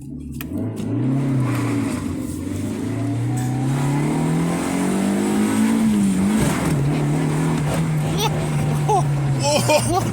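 An old Honda Civic EG engine drones and revs up and down while driving with failing brakes, loud and close, with voices talking over it.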